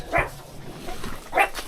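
Two sharp dog barks a little over a second apart in a place with many dogs, each one loud and close against a quiet background.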